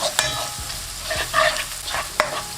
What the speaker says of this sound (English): Give this a really good mix and saute the onions.